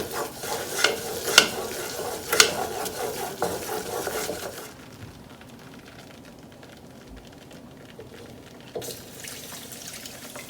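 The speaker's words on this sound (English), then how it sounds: "Mix that well, about a minute or 2." Tuna casserole mixture being stirred in a pan, a few loud scraping and clinking strokes over a light sizzle in the first half, then a quiet, faint frying hiss with one more soft clink near the end.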